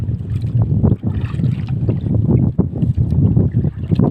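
Strong wind buffets a fishing boat at sea during a storm, a rough continuous roar of gusts and microphone wind noise with surging water, loud and close, no voices.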